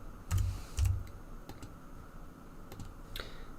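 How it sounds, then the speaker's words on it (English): Close computer keyboard typing while working a calculator during a maths lesson: a few quick clustered key presses with thumps early on, then scattered single taps over quiet room tone. "it's so much harder to use a calculator on a keyboard"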